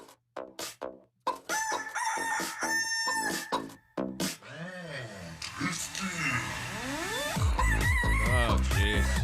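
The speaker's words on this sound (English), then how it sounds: "What is this? Techno chicken?" Techno music built from chicken clucking and rooster crowing, with choppy rhythmic clucks, a long sweeping crow and a heavy beat coming in near the end, loud and close, with people talking over it.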